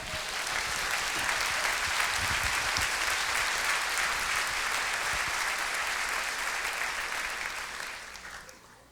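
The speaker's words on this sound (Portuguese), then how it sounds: "Vamos aplaudir ao nosso Pai." Church congregation applauding together in a worship service, a steady dense wash of clapping from many hands that holds evenly for most of the span before tapering off near the end.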